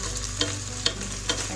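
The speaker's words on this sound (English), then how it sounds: "Keep on mixing it." Sopa de fideo being stirred in a pot, with three evenly spaced scraping strokes over a low, steady simmering sizzle.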